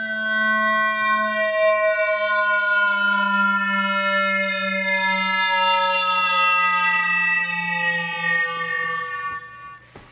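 A polychromatic microtonal instrument plays a slow, coarse descending glissando, one sustained tone stepping down through fine pitch increments, loud, close and alone.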